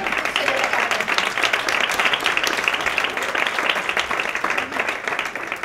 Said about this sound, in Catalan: un gran aplaudiment per la Dolors Bassa, la consellera, la gran consellera